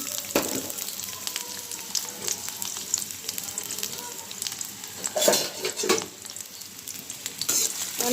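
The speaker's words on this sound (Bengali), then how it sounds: "আগে ভাজিটা বসিয়ে নিই পেঁয়াজ কাঁচামরিচ দিয়ে দিলাম" Onion and green chili fry in hot oil for a bean, potato and eggplant bhaji, giving a steady close sizzle with scraping stirs and occasional louder crackling bursts throughout.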